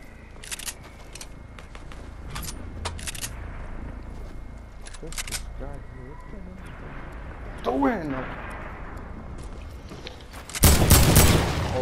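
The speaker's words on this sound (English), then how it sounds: "That guy is shooting." Gunfire in the video game Fortnite sounds as sharp bursts and rapid shots scattered through the match, under players talking, with a loud dense burst near the end.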